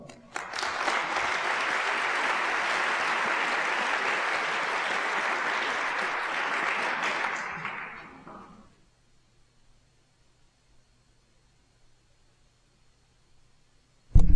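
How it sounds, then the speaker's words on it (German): A lecture hall audience applauds to welcome a climate researcher, loud sustained clapping for about eight seconds before fading out into near silence. "Meine Damen und Herren, bitte begrüßen Sie Professor Ottmar Edenhofer."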